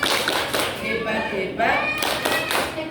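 Participants at a community parenting group meeting perform a rhythmic cheer-clap routine together, loud grouped claps and taps interleaved with chanted voices nearby.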